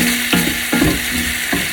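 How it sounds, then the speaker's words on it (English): Pork adobo with pepper stirred in a hot pan, three scraping strokes rising over a steady sizzle with a faint hum beneath. "and then we add our pepper. A little bit of a stir."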